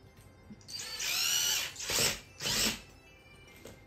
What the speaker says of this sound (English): we'll use the little tool they provide to give it the final tightening